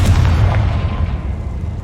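A Confringo blasting spell explosion in a video game, a loud deep boom that rumbles on briefly with no voices.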